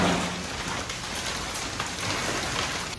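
Heavy rain pours down steadily on a house construction site, a dense, loud hiss of drops drumming on surfaces with no pause.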